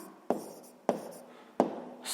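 A pen writing in a notebook: three distinct scratchy strokes on paper, close and crisp, with short quiet gaps between them.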